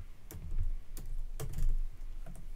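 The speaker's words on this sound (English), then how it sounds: "Okay, I'm typing this in Russian." Keys clatter on a computer keyboard in a few quick bursts of close, crisp clicks with short pauses between them, in a quiet room with no one talking.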